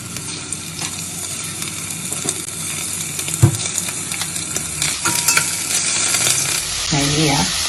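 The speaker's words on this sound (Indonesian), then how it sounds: "Kita tunggu sampai wajannya panas, kita goreng dulu udangnya" Loud, steady sizzling of shrimp frying in hot oil in a wok, with occasional metallic scrapes and clinks from stirring.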